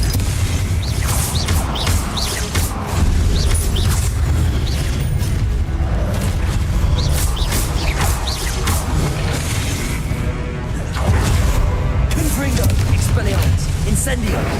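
Spell blasts and impacts in Hogwarts Legacy, a steady barrage of booms, crackles and bursts in quick succession, with a voice repeatedly calling out spell names over the fighting.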